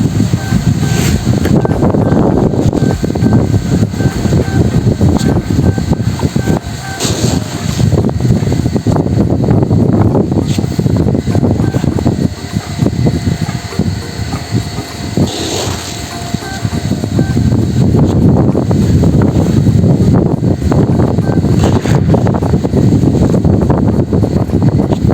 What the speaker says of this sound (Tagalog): Sobrang mahangin na naman mga kabady.